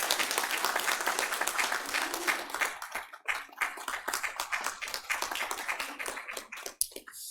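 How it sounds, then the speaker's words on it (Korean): A church congregation at a Sunday service applauds warmly, dense clapping from many hands that thins into scattered individual claps toward the end. "우리 뜨겁게 박수하도록 하겠습니다"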